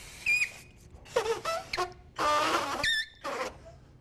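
Compressed air blowing golf club grips on, heard as several short hissing, whistling blasts with little squeaks in between, fairly close and with no talking.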